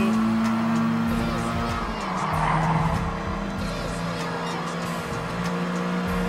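Gran Turismo Sport race cars diving into a tunnel: steady, loud engine drone with sliding tire squeal and enclosed echo, continuous throughout.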